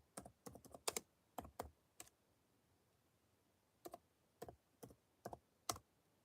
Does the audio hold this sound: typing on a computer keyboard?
yes